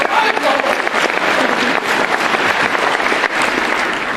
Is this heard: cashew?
no